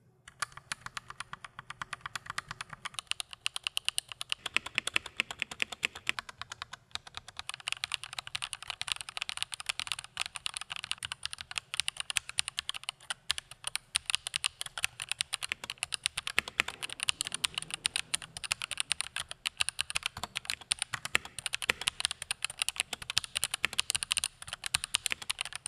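A magnetic Hall effect gaming keyboard clacks in a steady, rapid stream of crisp keystrokes for about twenty-five seconds, close up and prominent with no voice.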